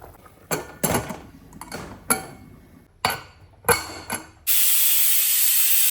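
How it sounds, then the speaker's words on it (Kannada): A pressure cooker lid being closed on a pot with boiling rasam, with a series of sharp metallic clanks and scrapes, then a steady hissing burst of steam that cuts off abruptly. "ಇವಾಗ ಕುಕ್ಕರ್ ಮುಚ್ಚಳ ಹಾಕೋಣ"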